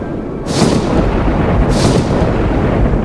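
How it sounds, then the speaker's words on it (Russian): A thunderstorm sets in with a continuous deep rumbling roar and two bright crackling thunder bursts about a second apart, loud and close, with no voices. "Слышь, Узи, буря с грозой начинается!"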